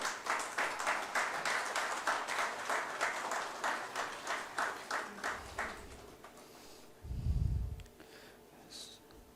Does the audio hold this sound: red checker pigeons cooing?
no